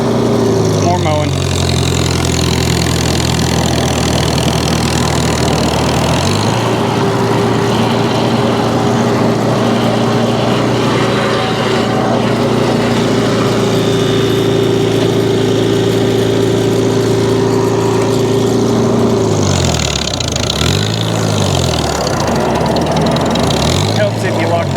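A 1952 Farmall Cub tractor engine runs loud and close while mowing, its steady drone rising in pitch as it throttles up early on and dipping and wavering near the end, with someone speaking over it.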